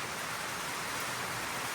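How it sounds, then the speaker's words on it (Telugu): Steady rain falling in sunshine somewhere in Uttarakhand, a dense even hiss with no distinct drops or voices, constant and fairly close throughout. "ఎండ కొట్టుకుంటూ వాన కొడుతుంది. ఉత్తరాఖండ్ స్పెషల్."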